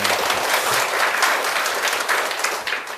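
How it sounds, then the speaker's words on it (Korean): A crowd of mothers at a morning leadership talk claps together, a brief, dense, steady burst of applause filling the room at close range. "우리 박수 한번 치면서 시작할게요"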